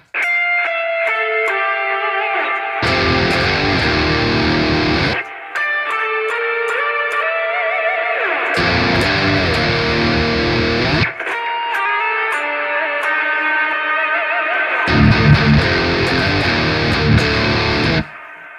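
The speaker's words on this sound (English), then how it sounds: "if you put the reverb, delay, and supercut on one switch like this" Guitar put through reverb, delay and a supercut effect all switched together, loud sustained chords alternating between a dry tone and sections of thick, washed-out echo and distortion, with no voice.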